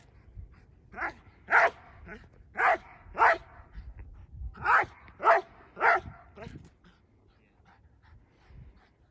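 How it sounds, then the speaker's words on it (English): A dog barks in a police dog handling exercise, roughly nine loud barks in irregular bursts over the first six seconds, then quieter panting and faint movement. "Go pick up your dog."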